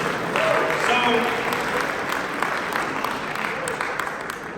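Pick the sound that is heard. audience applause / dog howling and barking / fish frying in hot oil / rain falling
audience applause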